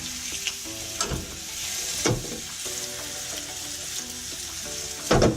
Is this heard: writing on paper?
no